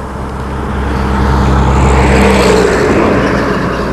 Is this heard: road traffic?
yes